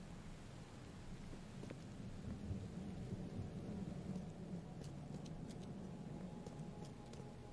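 Video game rain falls steadily with a low rumbling thunder-like backdrop, continuous and fairly faint, with a few small clicks scattered over it.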